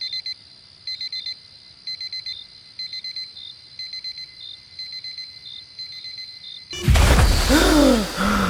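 A digital alarm clock set for an early train beeps in steady repeated bursts, close and clear, for several seconds before it gives way to a sudden loud rustling and sighing as someone wakes.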